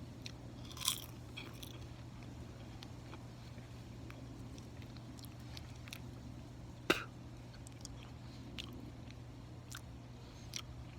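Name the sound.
biting and chewing a wilted green autumn leaf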